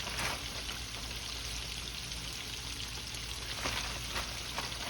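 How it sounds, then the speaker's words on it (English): Shrimp frying in hot oil in batches for a crispy Asian-style dish, a steady dense sizzle and crackle that runs on without any talk. "we're gonna let that fry there"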